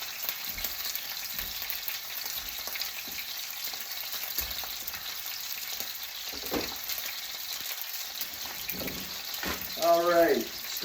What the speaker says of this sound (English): All right, steak is in the pan.